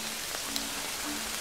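Steady rain falls at Lake Matheson in New Zealand, a soft continuous patter of drops on surfaces with no voices, even and close throughout.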